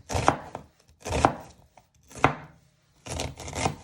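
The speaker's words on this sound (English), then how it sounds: "Then you want to turn it around and you just want to finally slice it." A knife slices through beef on a cutting board in four distinct, evenly spaced chops, each a close, sharp thud, with short silences between and no talk.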